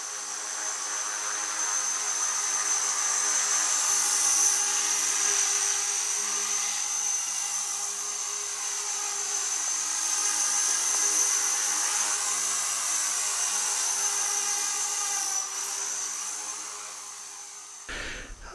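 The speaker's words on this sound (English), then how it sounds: "me flying a Lion 250 helicopter in the back garden" A small Lion 250 RC helicopter flying in a back garden whines steadily at a high pitch, its rotor buzz rising and falling slightly, close by, then cutting off abruptly near the end.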